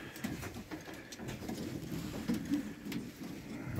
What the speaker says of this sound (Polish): Jest spokojne gołębie.